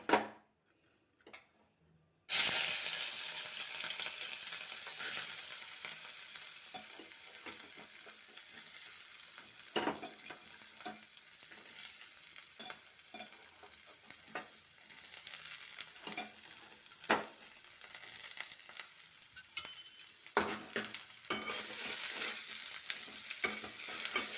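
Chopped carrots, green chilies, sweet corn and curry leaves fry in hot oil, a continuous crackling sizzle with scattered sharp pops and spatters that runs on steadily after a brief quiet start.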